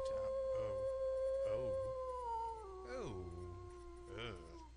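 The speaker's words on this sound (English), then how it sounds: "You freeze as a wolf's howl sends shivers down your spine." A wolf howls in the King's Quest 2 VGA game, with several long rising and falling howls, layered tones and a fading tail, set over a steady synthesized music drone.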